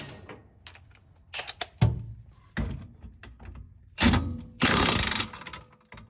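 A ratchet wrench works a 19 mm bolt loose on a car's upper suspension arm: quick clicking pawl runs in short spurts, with clunks and a harsh burst of metal noise near the end.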